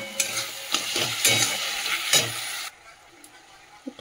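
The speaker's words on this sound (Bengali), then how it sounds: "চলো এর মশলাটা কষিয়ে নিই" Spices, salt, turmeric and tomato sizzle in a frying pan while a utensil stirs and scrapes in repeated strokes, loud and close, before the sizzle abruptly drops away to a quiet tail.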